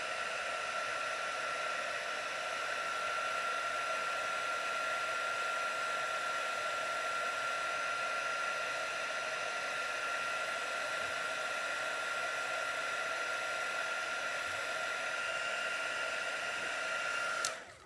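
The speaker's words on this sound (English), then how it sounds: "grab our heat tool, and we will heat it up and melt the embossing powder." A heat tool blows steadily to melt embossing powder on a handmade Christmas wreath card, a constant close whirring hiss with a high whine that runs unbroken for about eighteen seconds and then cuts off.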